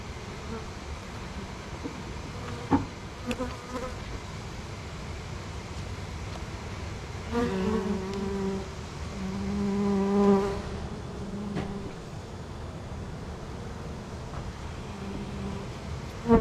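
Honey bees buzz around an opened hive during an inspection of brood and honey frames, a steady insect drone throughout with a few brief louder swells and knocks.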